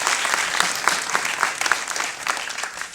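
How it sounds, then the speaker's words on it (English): Festival audience clapping for a film and its cast at a screening Q&A, a steady round of applause with individual claps standing out, fairly close and with no talk. "Let's give Mango Sticky Rides our musical round of applause."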